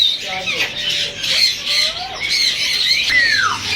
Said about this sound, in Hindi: ये तीसरे केज के बर्ड्स हैं, ज़्यादातर यहाँ मेल्स पड़े हुए हैं